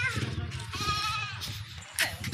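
A pure Barbari breed goat bleats nearby in a wavering, drawn-out call, followed by a second shorter cry, with low rumbling background noise.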